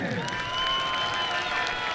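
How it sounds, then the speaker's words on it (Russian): Crowd applauds and cheers at a football match between Estonian football legends and Zenit 1984 legends, a steady broad roar of clapping and voices with whistle-like tones over it, continuous and fairly loud throughout. "Ну давайте общие аплодисменты и овации"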